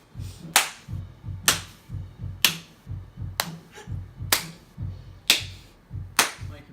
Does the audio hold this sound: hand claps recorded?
yes